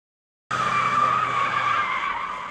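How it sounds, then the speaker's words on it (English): A modified police training skid car skids with a sustained, loud tire squeal that starts abruptly after half a second of silence and holds steady to the end, with a low engine rumble beneath. "It's called a skid car, and it's been modified so that an instructor can take traction away at low speeds"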